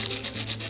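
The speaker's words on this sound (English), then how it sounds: "So I'm using 120 grit sandpaper." Close, steady rasping of 120 grit sandpaper rubbed over the rounded edges of a clay piece, with quick back-and-forth strokes in an even rhythm and no talking.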